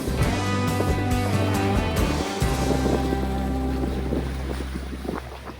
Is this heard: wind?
yes